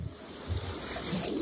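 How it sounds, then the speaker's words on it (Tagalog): Strong river current rushing steadily past at a fishing spot, a broad continuous roar of moving water, loud and close with no pauses. "Sobrang lakas ng agos ng tubig"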